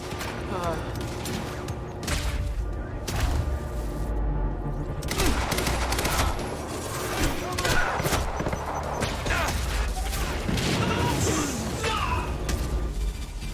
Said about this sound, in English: Providing sniper cover.